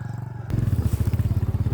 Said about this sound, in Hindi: हम भी मोटरसाइकिल पे,